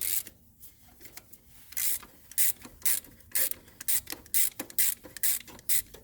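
A 24 mm wrench slowly cranks an oil pressure sensor off a 2011 Subaru Legacy 2.5 SOHC engine, giving a run of short, close ratcheting clicks and scrapes in quick bursts.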